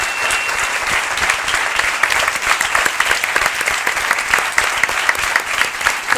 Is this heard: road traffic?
no